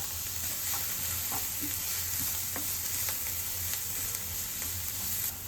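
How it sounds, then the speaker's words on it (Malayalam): Finely chopped onion, garlic, ginger and green chillies fry in hot oil for an egg devil snack. A continuous bright sizzle runs throughout, with soft spatula scrapes scattered across it and no voices. "ഓയിൽ ചൂടായാൽ ഒരു സവാള പൊടി പൊടിയായി അരിഞ്ഞത് ചേർത്ത് കൊടുക്കാം"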